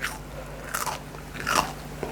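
Crunchy fried field rat being bitten and chewed up close, with a few sharp, crackling crunches in quick succession over faint background hum and no talking.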